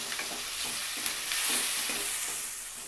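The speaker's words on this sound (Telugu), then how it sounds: "ఈ అల్లం వెల్లుల్లి పేస్ట్ ఈ ఆయిల్లో బాగా వేగితే టేస్ట్ బాగుంటుందండి." Ginger garlic paste fries in oil for an aloo egg masala curry: a close, even hiss and crackle with light stirring scrapes running through it.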